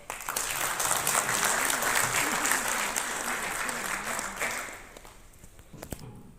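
Audience applause fills a business meetup hall in Punjab, a dense steady clapping crowd that fades out near the end, with a faint voice briefly audible underneath.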